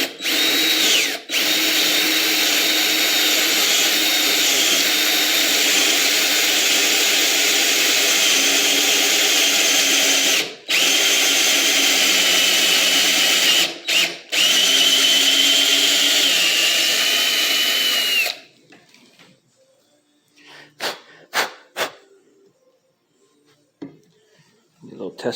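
A power drill bores a full-size hole in metal stock for a homemade lathe scraping tool, a loud steady whine that runs nearly continuously with a few brief stops, then cuts out, leaving scattered small clicks and handling knocks.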